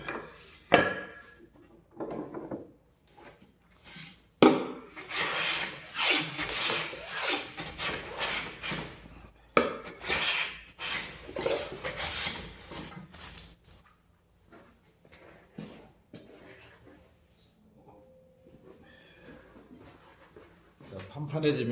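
A hand plane shaves thin curls from wood for a picture frame, giving repeated close rasping strokes in bursts with pauses between them.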